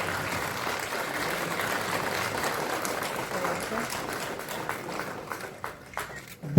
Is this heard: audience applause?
yes